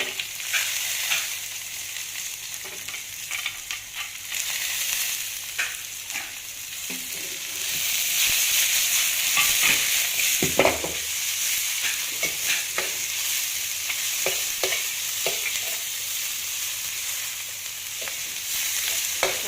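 Onions frying in a pan for Cambodian fish amok, a continuous close sizzle with scraping and clinking stirring strokes throughout, the frying growing louder partway through.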